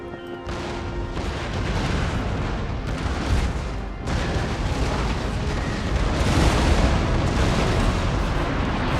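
Ship cannon broadsides fire in Empire Total War: dense, rolling booms and blasts overlap continuously, loud and close, swelling in waves with no gaps between shots.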